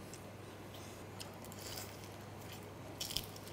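Someone eats crayfish at close range, biting and chewing through the shell. The wet crunching is faint against a low steady hum, with a few sharper crunches near the end.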